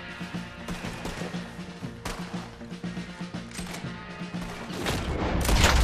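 Gunfire from the Red Dead Redemption 2 video game during a river chase, with repeated shots and booms over a dense game soundtrack that grows louder toward the end.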